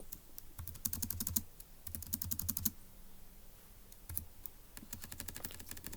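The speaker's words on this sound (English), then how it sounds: "let's type up the solution as 243" Computer keyboard typing entering a puzzle solution, several quick bursts of clicky keystrokes separated by short pauses, close and fairly clear with no talking.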